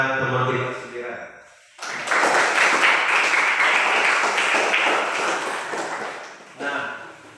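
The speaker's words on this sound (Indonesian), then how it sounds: "mari kita tepuk tangan kepada teman kita" A classroom of students claps for a classmate, a burst of many hands at moderate distance following a man's speech, fading and then briefly returning as he resumes talking.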